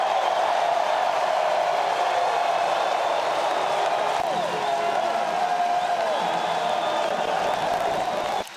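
At a Texas A&M versus Texas State college baseball game, the crowd roars loudly and steadily for pitcher Weston Moss. Cheering and applause continue throughout, and whoops rise above the noise.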